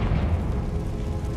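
A Confringo fire spell blasting in the wizarding game Hogwarts Legacy: a heavy, sustained low rumbling boom that fills the whole short moment, loud and close with no voice over it.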